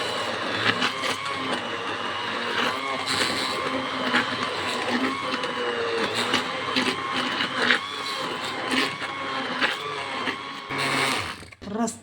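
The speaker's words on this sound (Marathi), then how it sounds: "चला आता आपण याला आता मिक्सी फिरवू." Mixer grinder whirring steadily as it blends mango pulp with sugar and cold water, a dense continuous motor drone that stops abruptly near the end.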